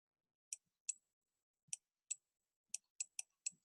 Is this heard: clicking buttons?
yes